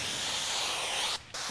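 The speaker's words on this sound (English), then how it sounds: "spray again. Here I use my slip solution, the Ape slip solution for this" Ape slip solution misted from a spray bottle onto a car panel for paint protection film, a steady close hiss that stops abruptly for a moment near the end, then resumes.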